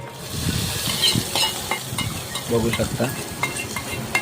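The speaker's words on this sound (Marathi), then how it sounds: "अशी फोडणी तडतडती इकडे" Spices tempering in hot oil for a chutney give a steady crackling sizzle with small pops, heard up close under conversational voices in a home kitchen.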